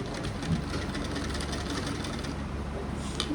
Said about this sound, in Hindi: यहाँ लास्ट में भी हमें डबल सिलाई लगानी है।